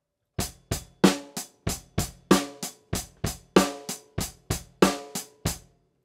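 Rock drum beat with kick and hi-hat played at a quicker tempo, a steady run of close, crisp strokes with regular heavier accents and no voices.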